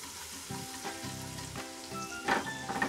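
A tablespoon of chopped garlic frying in a little oil for chicken chilli gravy, a close crackling sizzle with a brief sharper burst near the end.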